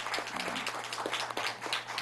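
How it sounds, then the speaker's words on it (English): A round of applause in a public board meeting, steady broadband clapping from a crowd filling the short stretch at an even, moderate level. "You should give yourself a round of applause."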